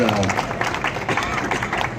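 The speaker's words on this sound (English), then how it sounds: "So give him a round of applause." Dense applause from an audience at an IAAPA 2016 press event for SeaWorld and Busch Gardens ride vehicles, a steady wash of many hands clapping with voices mixed in.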